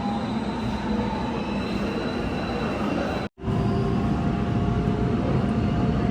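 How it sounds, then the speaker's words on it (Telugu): A subway train arrives at a station in Korea with a loud, continuous rumble of wheels and carriages and faint squealing tones. The sound cuts out briefly midway, and no one speaks. "ఇప్పుడు నేను ఎక్కాల్సిన ట్రైన్ వస్తుంది వెనకాల ఇంకోటి వస్తుంది"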